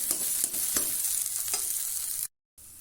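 Spiced potato filling for aloo paratha with coriander leaves frying in a pan, a continuous close sizzle broken by several scraping stirs of a spatula, then a brief cut to silence near the end.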